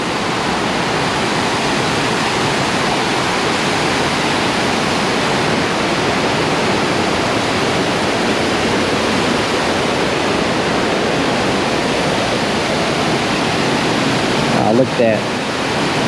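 Baby Falls near Tellico Plains, Tennessee roars as a steady, full wash of falling water, loud and unbroken throughout, with someone speaking briefly over it.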